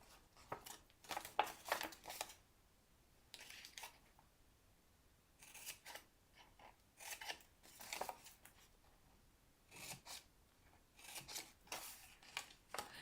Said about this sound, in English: I'll cut up to that score line and then angle cut that little tab.